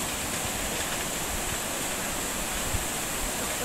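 A flowing river during a stream discharge measurement gives a steady, dense wash of moving water, fairly loud and constant, with no clear voices.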